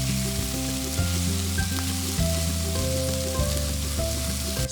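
Sausage frying in a single stovetop pan, a loud continuous sizzle close up with small crackles and the low steady hum of the kitchen underneath.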